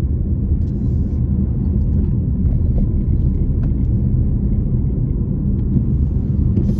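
A car drives through Ballinrobe in County Mayo, Ireland, with a steady low engine and road rumble heard from inside, loud and continuous without any talking.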